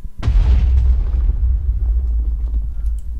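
Cannon firing in a Minecraft weapon mod, a single sharp booming blast followed by a long rumbling low decay lasting a few seconds.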